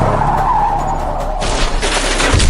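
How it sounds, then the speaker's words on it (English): A truck skidding and crashing into the White House as a story sound effect: a loud tire screech slides for about a second, then a harsh, noisy crash impact takes over to the end, close and alone. "Just then, a truck crashes into the White House."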